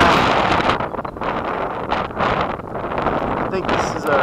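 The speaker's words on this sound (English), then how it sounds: "Okay, it's pretty windy." Steady wind buffeting the microphone, a rough continuous roar with gusts rising and falling throughout.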